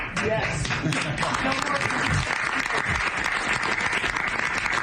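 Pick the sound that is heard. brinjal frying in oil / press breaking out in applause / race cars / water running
press breaking out in applause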